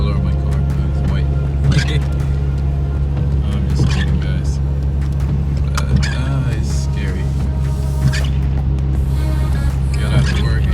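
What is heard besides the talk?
2019 Ford Mustang rear wheel drive driving in snow storm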